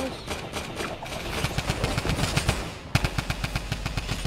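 Rapid automatic gunfire from the Fortnite video game, loud and close, rattling in quick rhythmic bursts with a sharper, faster volley toward the end over a low engine-like rumble.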